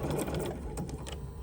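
A Bernina sewing machine fitted with a double cording foot back-stitches in a fast, steady mechanical whir with quick rhythmic needle clatter, close and continuous for the whole moment.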